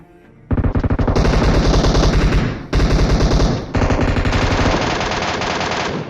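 An MK14 rifle fires in a battle royale video game as loud, rapid, continuous automatic bursts, with a brief pause partway through and no talking.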